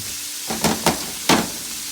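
Sausage cooks in a pan for chestnut dressing with a quiet background sizzle, broken by three short, louder bursts of spitting and stirring noise close by, with no voices.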